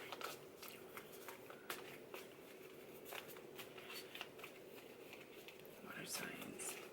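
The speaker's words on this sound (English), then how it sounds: "Okay, one more shuffle." Quiet, repeated riffling of a tarot card deck being shuffled, crisp bursts close by, with a voice talking softly underneath.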